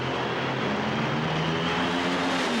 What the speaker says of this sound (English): And with fire coming out of the right-hand side of the engine, John Force advances to the Final Four